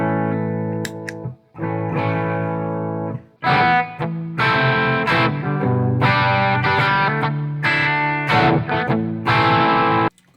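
Electric guitar on a Gibson Les Paul copy played through a Tone Priest Prince of Darkness amplifier, loud chords and notes in several phrases with short gaps between them, carrying some effect coloring and no voice.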